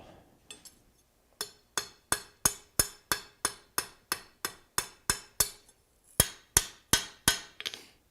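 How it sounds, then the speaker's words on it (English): Hot steel struck with a hammer on an anvil block while a taper is drawn out for a handle: a steady run of about eighteen sharp, ringing blows, close and loud, with a brief pause before a final burst. "again I'm going to use the anvil block again, and I'm going to start pulling out a taper to make our handle"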